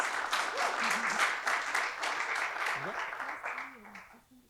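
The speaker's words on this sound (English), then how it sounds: "And round of applause." Audience applause at a startup pitch event, a steady wash of many hands clapping close by for several seconds before tapering off, while a voice speaks over it near the end.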